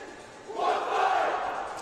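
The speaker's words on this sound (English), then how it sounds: "You'll hear a cheer in just a second." A team lets out a short, loud cheer together, swelling quickly and then fading after about a second, at the 2024 West Point Open.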